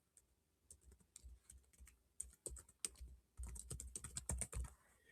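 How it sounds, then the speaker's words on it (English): Typing on a computer keyboard while entering account access details: close, irregular bursts of clicking keystrokes, sparse at first and then a rapid flurry, with no talking. "You'll type my name in here"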